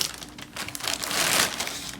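Crinkling of a plastic cereal bag, Cap'n Crunch, being cut open, a few soft rustles swelling into a louder crackling stretch close by, with no talk.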